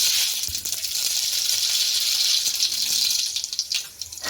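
Mustard seeds and cumin sizzle in hot oil with a loud, continuous hiss and crackle, close up and steady, with a few faint knocks.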